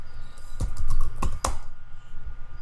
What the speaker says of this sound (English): so I'll hit Control-C on my keyboard